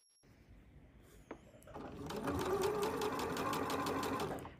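A sewing machine stitches a swimsuit seam, its motor starting softly and then running in a steady, continuous mechanical whir with rapid needle clatter, close and alone without talk.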